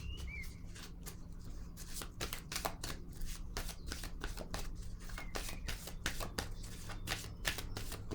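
A deck of tarot cards being shuffled close by: a quiet, steady run of crisp riffling and flicking with no talking.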